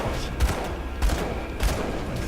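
Three evenly spaced bursts of spell shots in Grim Dawn thump through a steady noisy backdrop, each a short, punchy blast.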